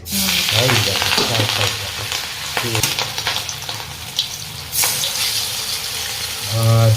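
Fish fries in hot oil in a home kitchen, giving a loud, steady sizzle close by with occasional stirring scrapes and bursts of spattering.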